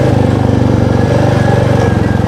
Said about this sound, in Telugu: బైక్ అయితే స్టార్ట్ అయింది